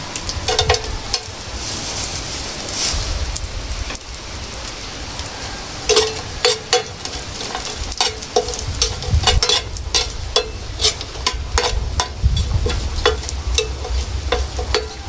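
Dried fish frying in hot oil, sizzling and crackling steadily with frequent sharp pops and metal utensil clinks as it is stirred together with vegetables in a pan in a rural provincial kitchen.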